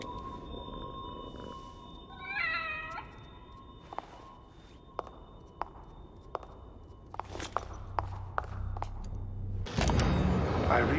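A hostile cat creature in The Evil Within: The Consequence makes a warbling, rising cry, followed by scattered sharp clicks and thumps of a struggle, with a burst of loud noise at the end and no speech.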